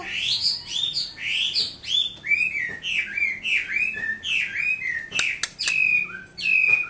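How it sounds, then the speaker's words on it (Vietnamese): A hwamei songbird sings loudly and up close, a rapid run of varied whistled phrases and chirps pouring out in quick succession with brief pauses, alone with no talk. "Hót nhiều giọng luôn anh Thiện ơi"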